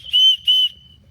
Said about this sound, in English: you got an emergency whistle